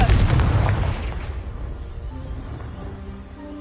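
A Confringo fire spell in Hogwarts Legacy blasting a pile of blocking debris lets out one loud, deep boom right away, then a long rumbling decay that fades over several seconds.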